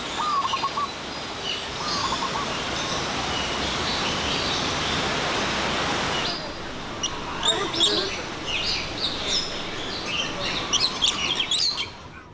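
Many birds chirp and tweet in an aviary built over a natural valley in a Hong Kong park, over a steady rush of flowing water; the chirps grow clearer and more varied once the water noise drops away.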